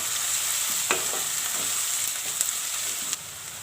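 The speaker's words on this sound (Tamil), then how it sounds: "வெங்காயம் நல்லா ஃப்ரை ஆகட்டும்." Onions and crushed garlic frying in oil in a pan, a steady close hiss of sizzling with a few brief scrapes and clicks of stirring, no talk over it.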